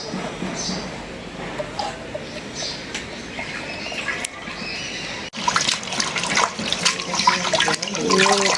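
Fresh coriander leaves being rinsed in water by hand, with splashing and swishing that grows louder and busier in the second half, over a steady background wash.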